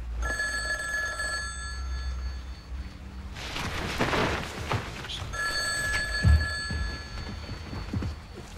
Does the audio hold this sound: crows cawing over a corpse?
no